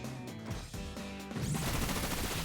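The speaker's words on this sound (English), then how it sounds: "And here comes the Bullet Seeds." The Pokémon move Bullet Seed fires in a Pokémon Scarlet ranked battle, a quick run of sharp, rattling shots after a stretch of game music, loud and alone.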